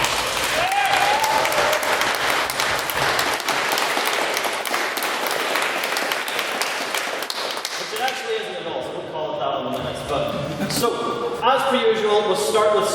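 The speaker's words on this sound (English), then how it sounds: "since I got my big round of applause" Audience applause at a Literary and Scientific Society debate at Queen's University, Belfast: a sustained round of clapping from a crowded hall that thins into scattered claps, with a voice speaking over the tail.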